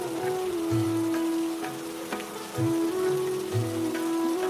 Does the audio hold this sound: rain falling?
yes